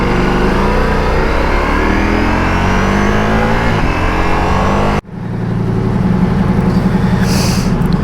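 Ducati Multistrada V4 Pikes Peak motorcycle with a full Akrapovic exhaust, its engine running loud and close: a rich, throbbing rev that holds for about five seconds, drops abruptly, then settles back into a steady idle rumble.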